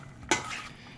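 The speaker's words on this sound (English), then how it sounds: "stir it around, see how the fish to onion ratio is looking" Ahi poke with red onions stirred in a bowl gives a single short clink of utensil against dish, close and fairly quiet, followed by a soft rustle of the mixture settling.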